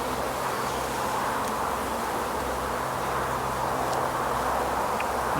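A dense, steady hum of many honey bees buzzing together at an opened hive, continuous and moderately close, with no voices.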